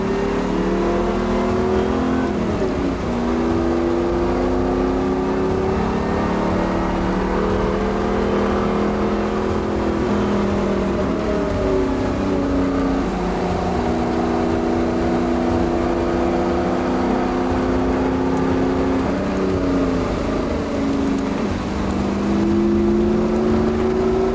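A loud race car engine in a video game drones and revs steadily, pitch climbing and dropping through repeated gear shifts over a long, continuous run with no talk.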